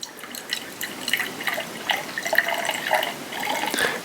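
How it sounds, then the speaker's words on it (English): Water poured carefully into the small funnel of a home heat-transfer lab's sensor calibration unit, a steady trickling splash with scattered drips running close and clear for the whole stretch. "I'm going to pour the water into our calibration unit right here, into our little funnel."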